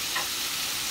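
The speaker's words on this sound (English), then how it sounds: "So I have those sizzling in the pan with some olive oil." Zucchini noodles sizzle and crackle steadily in a hot pan with olive oil, a dense hiss with no voices.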